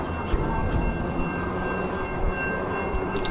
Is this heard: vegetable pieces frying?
no